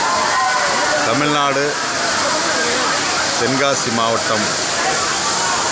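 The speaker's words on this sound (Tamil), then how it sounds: "குற்றால அருவி ஐந்தருவியில் இன்றைக்கு இன்பச் சுற்றுலாவில் கலந்து கொண்டு ஐந்தருவியில் குளித்து மகிழ்கிறோம்" Kutralam's Five Falls waterfall in Tenkasi, Tamil Nadu, roars as a loud, steady broadband rush throughout, with a voice speaking over it.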